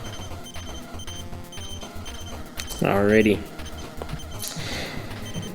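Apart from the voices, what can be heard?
beeping in video game Al Unser Turbo Racing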